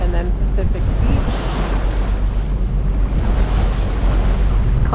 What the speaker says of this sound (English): A little bit of a breeze. Nice and calm seas, not much swell.